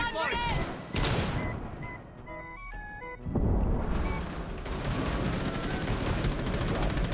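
Loud, close bursts of rapid weapon fire in the video game Operation Twin Shells, with shots rattling off in quick volleys and other game sounds in between.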